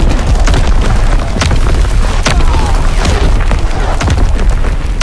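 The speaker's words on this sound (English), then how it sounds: "Incoming enemy artillery" Loud enemy artillery barrage in Call of Duty WWII multiplayer, with heavy booming explosions landing one after another over a dense, continuous battlefield rumble and scattered crackling bursts.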